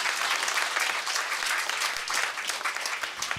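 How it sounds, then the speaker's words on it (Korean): A church congregation at a Sunday worship service breaks into steady, dense applause, many hands clapping together in a continuous close burst with no voices standing out. "박수 한번 쳐."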